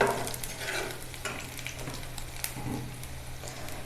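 Parboiled eggplant pieces sautéing in hot oil for a Tamil-style poriyal, with a steady close sizzle and occasional scrapes and clinks of a spatula stirring through the pan.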